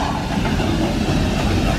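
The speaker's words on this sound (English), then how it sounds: "we got the steam train coming on by" A steam train rolls past at a theme park, a loud, close, continuous rumble with rhythmic clickety-clack of wheels on rails and no voices.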